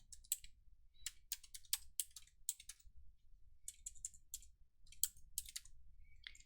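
Quiet, close computer keyboard typing and mouse clicking come in quick irregular bursts of sharp clicks with brief pauses between them, with no voice.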